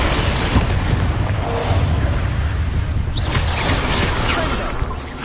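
A Confringo fire spell explosion from Hogwarts Legacy gameplay, a dense rumbling boom with mechanical crackle and creaking that fills the short moment loudly before tapering off at the end.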